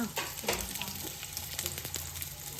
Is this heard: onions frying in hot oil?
yes